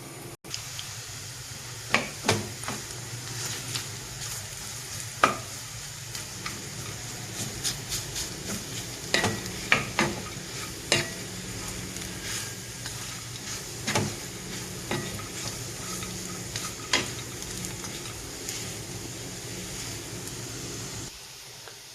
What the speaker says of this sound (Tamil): இந்த சமயத்தில் நம்ம இந்த பனங்கிழங்கு இதை நம்ம போட்டு நல்லா கிண்டி எடுக்கலாம்